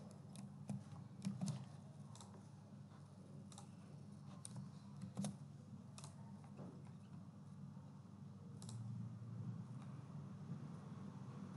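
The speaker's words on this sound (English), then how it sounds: "whenever I am going to press a key on the keyboard" Sparse clicks of computer keys being pressed, isolated taps scattered irregularly over a faint low room hum, close but quiet, with no speech.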